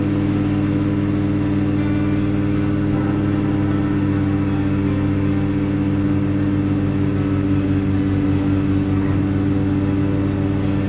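A car engine in the zombie survival game State of Decay runs at a steady, loud, droning hum while driving, with a slight rise in revs partway through and no talking over it.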